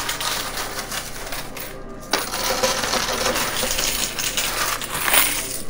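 Quarters drop and clatter in a high limit coin pusher machine, a dense run of metallic clinks and rattles that goes on throughout, loud and close.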